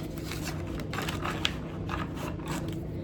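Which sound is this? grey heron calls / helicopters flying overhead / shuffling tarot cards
shuffling tarot cards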